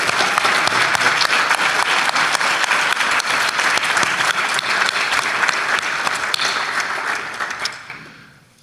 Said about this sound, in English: And an enthusiastic round of applause for Javier and our panelists this whole.